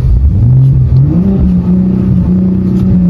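A 2021 Ford Raptor pickup truck engine, heard from inside the cab, revs loud and close, its pitch rising and falling in repeated surges as the throttle is worked.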